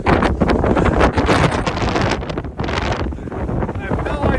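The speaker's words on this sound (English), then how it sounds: "I have no idea if I can protect this from the wind." Strong wind buffets a mountain peak, roaring and gusting hard across the microphone with constant rumbling and rustling throughout.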